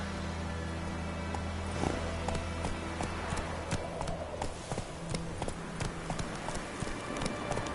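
Roach, a horse in The Witcher 3 video game, trots with a steady, close clip-clop of hooves over a constant low ambient hum, the footfalls fairly loud and evenly paced throughout.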